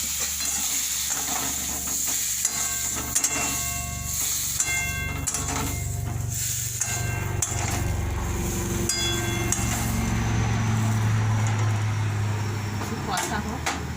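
Live koi fish curry cooks down in a hot pan with a steady, close sizzle of frying. Stirring scrapes and light metallic clinks run through it while a person talks over the cooking.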